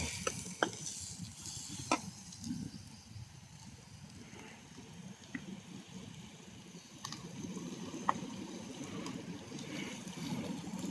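Onions and green chilies sauté in a pan over an outdoor village cooking fire, a faint, steady sizzle with occasional stirring scrapes and clicks throughout.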